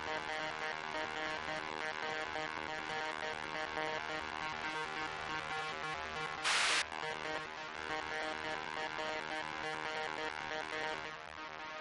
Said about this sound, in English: So that's what it sounds like with just the saw.